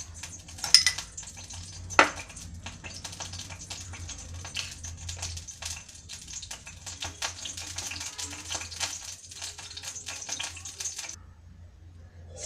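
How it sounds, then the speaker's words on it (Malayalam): Crab meat is mixed by hand into a ground spice paste in a bowl for Kerala-style crab chammanthi, producing a steady patter of soft clicks and scrapes, with a couple of sharper knocks early on. "ഇതിലേക്ക് നമ്മൾ ഈ ക്രാബിൻ്റെ മീറ്റ് എടുത്ത് വെച്ചിരിക്കുന്നത് രണ്ടും കൂടെ നന്നായി മിക്സ് ചെയ്യുക"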